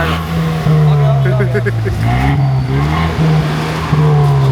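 A brand new car's engine revs loudly and close by, its steady growl rising and falling in several surges, while people talk excitedly over it.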